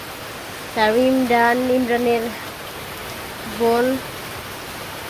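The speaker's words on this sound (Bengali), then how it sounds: "এই যে বৃষ্টি নামতেছে" Village rain falls as a steady, even hiss across the whole stretch, a broad wash of droplets under a voice speaking in two short bursts.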